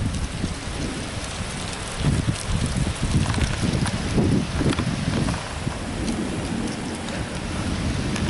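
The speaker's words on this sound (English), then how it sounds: "The wind's picking up." Wind rises during a severe thunderstorm in Flat Rock, Michigan, a loud, steady rushing mixed with rain-like noise and low gusty rumbles, with no talking.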